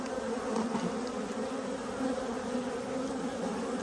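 Honeybees buzz around an open beehive while a brood frame is inspected. The hum is dense and steady and stays close and loud the whole time, with no talking.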